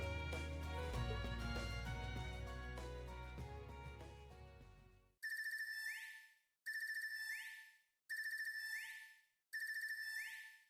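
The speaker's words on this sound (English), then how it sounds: "An awful ringtone." Music plays, then a synthesized phone ringtone in the video game Legend of Heroes: Trails of Cold Steel III repeats four times in short, evenly spaced bursts with gaps between them.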